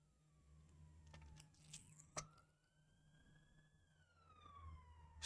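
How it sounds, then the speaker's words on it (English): A distant police siren wails, slowly rising and falling in pitch, faint under quiet room noise with a couple of sharp clicks. "Excuse the sirens."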